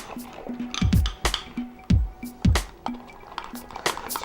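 Wet, gloopy plops and drips as a liquid egg mixture for an apple cobbler is poured and stirred in, with occasional light clinks against a bowl.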